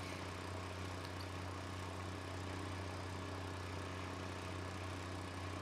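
Steady tractor engine droning in a farming video game, a continuous low hum with no talk over it.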